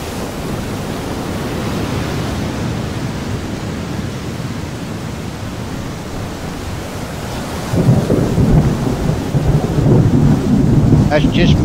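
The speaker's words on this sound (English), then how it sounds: "Oh no, got a storm here as well." Stormy weather at sea in the Deadliest Catch fishing game: a steady, loud rush of wind-driven rain and surf that swells heavier and rougher toward the end, with deep rumbling underneath.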